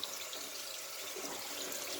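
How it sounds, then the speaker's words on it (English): Water runs steadily from a tap while rice is washed, a soft continuous hiss heard close by with no talking. "after we wash the rice"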